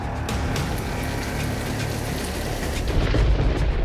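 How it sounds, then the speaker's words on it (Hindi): Heavy monsoon rain pours steadily with a dense hiss, and low rumbling thunder swells toward the end, loud and close. "होने लगी है आफत की बारिश।"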